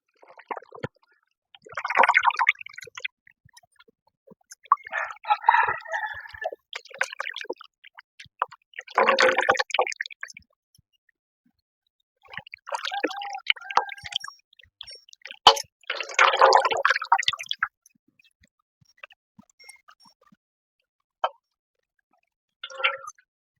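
Wild sarata greens are swished and rinsed in water, giving several separate bursts of splashing and dripping with quiet pauses between them, close and with no talk.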